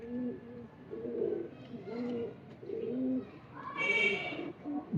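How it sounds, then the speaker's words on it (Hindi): Rampuri pigeons coo in low, rolling repeated phrases close by, one after another, with a brief higher flutter or call partway through. "ये रामपुरी देखने वाला कबूतर है"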